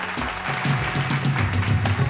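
Studio audience applause on a Bhojpuri TV game show, a loud, continuous wash of clapping with a rhythmic musical beat pulsing beneath it throughout.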